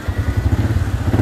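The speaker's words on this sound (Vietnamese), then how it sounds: "Để nổ máy anh em nghe thử coi sao." Engine of a small two-cylinder Yamaha Exciter motorcycle, fitted with a modified exhaust, idling close by with a loud, fast, even throbbing pulse and no voices over it.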